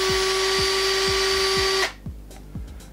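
A Parkside PBSA 20-Li A1 20V two-speed cordless drill whines at a steady high pitch, close and loud, then cuts off abruptly, leaving faint handling clicks and no talking.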